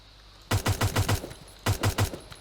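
Gunfire from a Roblox Blackhawk Rescue Mission 5 village mission: two quick bursts of loud, punchy rapid shots, five or six rounds each, separated by a brief pause.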